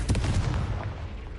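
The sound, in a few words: Confringo blasting spell explosion from a Harry Potter video game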